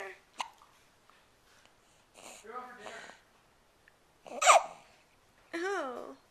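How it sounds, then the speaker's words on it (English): A baby hiccups a couple of times, each a short, sharp catch, among soft infant squeaks and babbling sounds in a quiet room. "Oh, hiccups."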